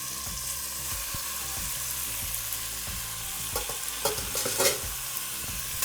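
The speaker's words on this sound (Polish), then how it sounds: "I teraz wrzucam masło i czekam aż mi się rozpuści i nagrzeje. Ok, teraz wrzucam mięso." Meat sizzles steadily in butter in a hot pan, with a constant frying crackle and occasional scraping and stirring clatters close by.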